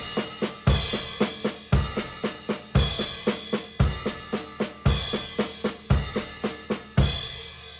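A drum kit plays a paradiddle groove with accented crash cymbal hits doubled by the bass drum: crisp, evenly spaced strokes repeating bar after bar, with big crash-and-kick accents landing roughly once a second, played alone.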